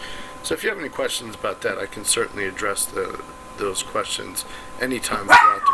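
A small dog barks repeatedly in the background of a room while a person speaks steadily over it, the yips and barks mixing with the talk.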